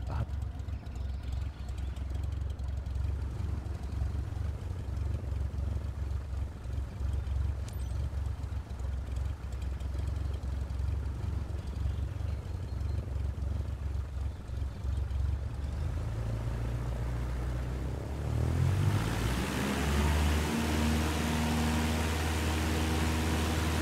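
A Cessna taxiing in Flight Simulator 2024 gives a steady mid-pitched engine drone that runs continuously throughout, shifting in tone near the end as the engine note changes.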